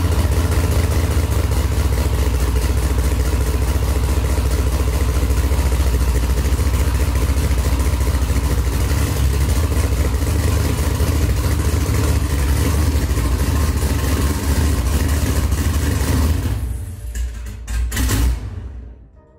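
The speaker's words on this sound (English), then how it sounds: "Fire this up so you guys can hear how fucking loud it is." Cammed Corvette Z06 V8 with open headers idling very loud and close, a choppy, lumpy rumble running steadily for about sixteen seconds before it is shut off and dies away.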